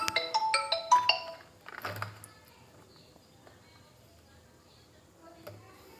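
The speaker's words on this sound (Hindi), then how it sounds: "वो जरा फोन आ गया था तो उसके लिए थोड़ा सा डिस्टरबेंस हो गया" A mobile phone ringtone plays a quick melodic chime pattern, then fades, followed by faint shuffling and handling sounds during a Hindi reasoning class.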